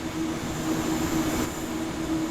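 A Siemens ICE 3 high-speed electric multiple unit of Deutsche Bahn running in Train Sim World 3 gives a continuous rolling rumble with a steady tonal hum and whine, with no pauses.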